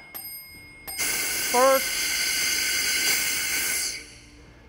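A low-pressure alarm bell and whistle sound from a rescue lifting-airbag air cart as the system bleeds down, over a steady loud hiss of escaping air that lasts several seconds and then stops, with a brief voice.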